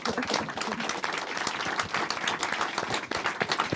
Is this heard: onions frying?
no